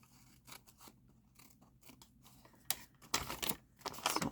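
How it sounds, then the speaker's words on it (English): Scissors snip through the sides of a folded paper bag, a run of close, crisp cuts and crunches that grow louder and denser toward the end, with no voices. "I cut an angle. I'm leaving this middle flap, and I'm cutting out the sides."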